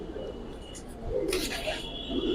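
Pigeons coo softly in low, murmuring bursts amid a busy loft of Giribaz and high flyer birds, with faint rustling and a brief bright flutter of wings partway through.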